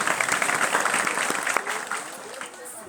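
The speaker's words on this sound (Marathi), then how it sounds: "एकदा आपण जोरदार टाळ्या वाजवू या मातृशक्तीसाठी" An audience at a Shivaji Maharaj Jayanti celebration breaks into applause, a dense wash of clapping that gradually tapers off, with a voice audible over it.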